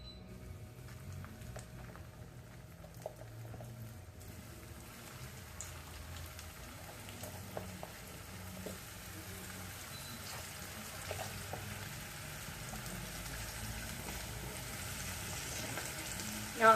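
Flour-coated okra frying in hot oil, a quiet steady sizzle with crackles and faint pops, continuous and close with no voices.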